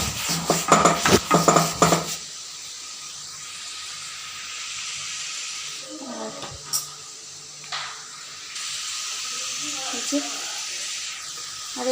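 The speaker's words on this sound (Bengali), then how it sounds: "আলু ভাজতেছি" Potatoes fry in a pan in a home kitchen. A clatter of pots and utensils gives way to a steady, soft sizzling hiss, with a voice speaking briefly in the background.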